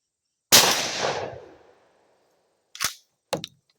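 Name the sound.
Mossberg 500 shotgun with turkey choke firing at target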